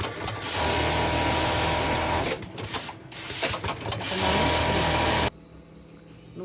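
A sewing machine stitches a flat seam at a production workshop, a loud, continuous mechanical whir with a brief dip in the middle before it stops abruptly, leaving quiet room tone.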